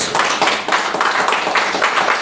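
A church congregation claps together in a strong, rhythmic burst of applause, close and loud with no one speaking.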